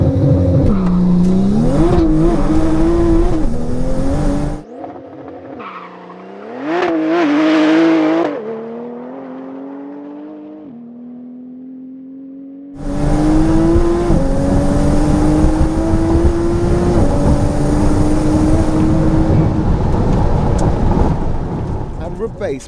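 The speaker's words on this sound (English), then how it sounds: "These ES-tuned Porsche 911 Turbo S's take absolutely no prisoners on launch" An ES-tuned Porsche 911 Turbo S makes a quarter-mile acceleration run: a loud, dense engine roar that climbs steadily, breaks off, briefly returns, then surges back in a long, sustained blast.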